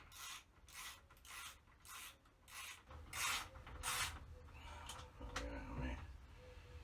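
Ratchet cranking down a battery hold-down while installing new RV trailer batteries, a series of rhythmic rasping clicks in short bursts, close and moderately quiet, with some clunks of handling toward the end.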